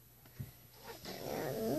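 A puppy gives a quiet, low growl that swells into a louder, wavering whine-like rumble over about two seconds, close by and with no talking.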